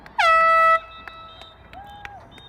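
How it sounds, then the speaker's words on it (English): A loud air horn blares for about half a second to mark halftime at a girls' varsity lacrosse game, followed by faint distant whistles and background noise. "the air horn's gonna go off soon as"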